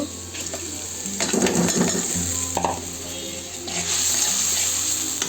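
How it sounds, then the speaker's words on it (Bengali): Soaked lentils tipped into a pan of frying, slightly burnt onions, raising a steady loud sizzle with spoon stirring and scraping against the pan; no one talks. "ডাল রান্না করে একসাথে ভিজাইছিলাম তো একটু ডাল রেখে দিছি তো এখন ওই যে ডালটা দিয়ে দিব"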